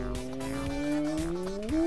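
Game car from Sakura School Simulator revving steadily with its pitch climbing, tires squealing loud and close throughout, with a sharp rise in engine tone near the end.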